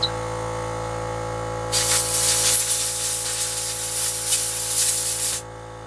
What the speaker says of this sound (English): I'm going to blow it out.